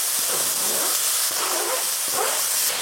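Onions sizzling loudly in a hot pan with mushrooms, a dense, steady hiss with faint crackles throughout, close and continuous.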